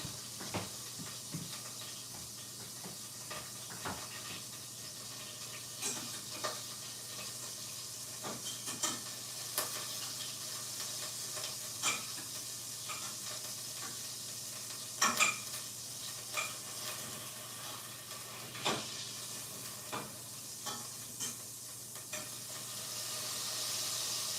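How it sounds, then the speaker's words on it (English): Tofu frying in a pan with a steady low sizzle, broken by irregular scraping and clinking strokes of a utensil stirring it, fairly quiet and close, with no voices. "I'm gonna stir the tofu"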